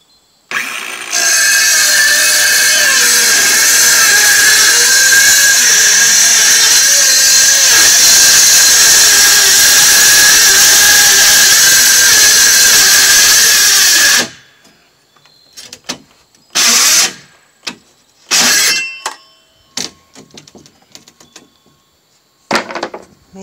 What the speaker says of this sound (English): I cut the same size plywood with a jigsaw.